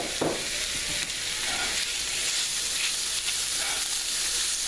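A ribeye steak sizzles steadily in a hot pan, a dense continuous frying hiss with a sharp crackle as the meat goes in, close and loud with no talking.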